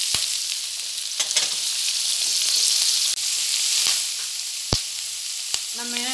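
Carrots sizzle steadily in a pan of hot oil for a vegetable kadai, with a few sharp clicks of a spoon stirring and scraping against the pan; no one speaks.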